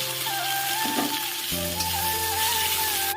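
Bay leaf and a ground paste of ginger, garlic, chilli, cinnamon and clove sizzle in hot oil with half-fried onion, a steady close frying hiss with a faint tone running through it and no talk.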